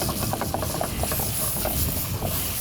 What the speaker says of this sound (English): So start mixing it up so that the ginger also starts frying evenly.